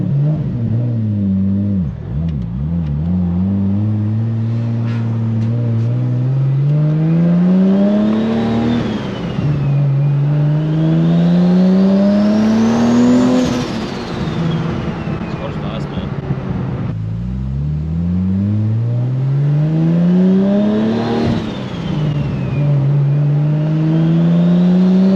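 A 2JZ-powered Toyota Supra MKV A90 on a test drive revs hard through repeated rising pulls, the engine pitch climbing then dropping with each gear change, loud and close, with voices underneath.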